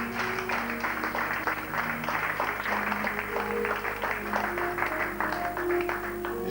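A church congregation applauds and acclaims the Lord during a worship service, a steady sustained wash of clapping with sustained musical tones underneath, continuous throughout.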